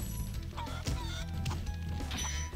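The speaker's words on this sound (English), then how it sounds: "Chickens!" Chickens cluck in the Spyro the Dragon video game, several short squawking clucks in quick, irregular succession over a busy game background, fairly loud and close.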